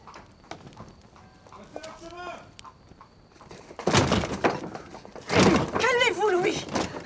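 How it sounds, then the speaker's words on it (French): Horses' hooves clip-clop on a street as a royal carriage flees through a lower town, the steps growing louder and nearer in the second half while voices talk over them. "Est-ce ici que l'on relaie les chevaux?"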